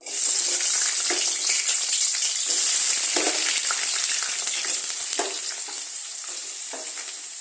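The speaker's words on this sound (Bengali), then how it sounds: "আলু সয়াবিনটাকে আগে একটু ভাজা করে দেবো" Steady, loud sizzling of potatoes and soya chunks frying in a pan, with occasional scraping stirs breaking through the continuous hiss.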